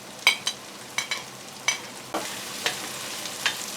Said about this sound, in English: Then add the chopped onions into the pot.